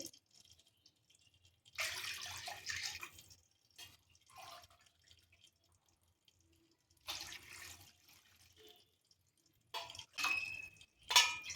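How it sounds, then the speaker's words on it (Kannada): Water is poured into a pot for ghee rice in several separate splashing bursts with quiet pauses between, close by, ending with a few drips. "ಇವಾಗ ನಾನು ನೀರು ಹಾಕ್ತೀನಿ"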